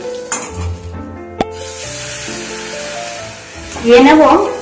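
Eggplant sizzles in hot oil in a pan while spice paste goes in, a steady close frying hiss with a few utensil clinks and a louder burst of sizzle near the end as the paste hits the oil.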